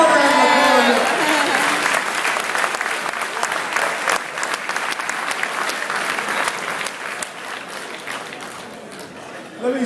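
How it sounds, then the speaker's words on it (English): An audience applauds a man at a public event, sustained clapping from a crowd, loud at first and then gradually thinning out, with a voice faintly heard at the start. "Give him a round of applause."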